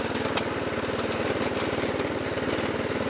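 A Snapper ride-on mower engine runs steadily nearby, a rapid low putter with a broad rough mechanical rasp throughout, no talk.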